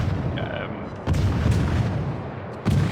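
Main guns of the Friesland firing in World of Warships, heavy booming salvos with a fresh blast near the start and another near the end, set over constant low battle rumble while someone talks.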